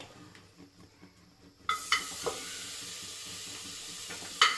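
Pork dropped into a hot pressure cooker for a mustard pork dish: a quiet stretch gives way to a sudden broad hiss of sizzling that holds steady, with a few utensil clinks and a sharp scrape near the end.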